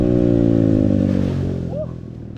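A dirt bike engine drones with a steady harmonic whine while riding, loud at first, then easing off and dropping in pitch, with a voice speaking faintly over it.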